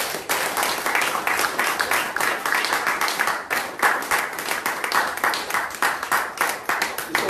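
A church congregation claps together in a quick, steady rhythm. The applause is loud, dense and continuous throughout.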